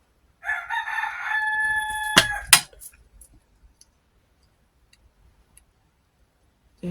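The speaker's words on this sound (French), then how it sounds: "vous avez le chant des coqs, vous" A rooster crows once, loud and fairly close, the call held for about two seconds and ending in a sharp break, followed by a few faint ticks and near silence.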